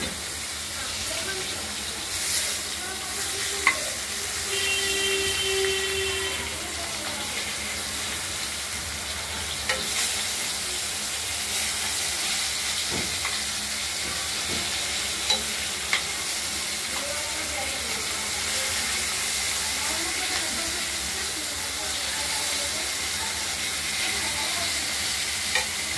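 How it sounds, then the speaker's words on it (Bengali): Katla fish frying in a pan, with a steady, close sizzling hiss throughout and a few light clinks and scrapes. "ভালো করে আমরা মাছগুলো ভেজে নেব।"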